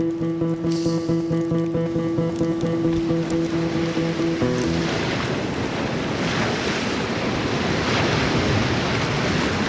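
Ocean surf washing onto a San Francisco shore, a steady broadband wash with strong wind buffeting the microphone, after a brief steady mechanical hum at the start.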